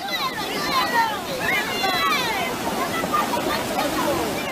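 Swollen river water rushes loudly and steadily as a car tries to cross it in Peru, with a babble of voices and shouts over the constant roar.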